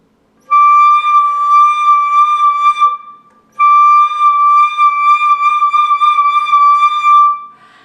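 A single high D flute note held steady for a few seconds, a brief pause, then the same pitch sustained again, clear and close with no talking.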